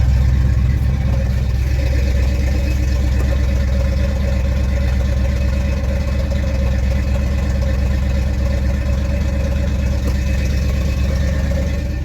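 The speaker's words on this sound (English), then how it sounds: "one of my new current favorite things is cold starting this truck" Carbureted pickup truck with straight exhaust idling steadily after a cold start, a loud, low, continuous rumble heard close and alone for the whole stretch.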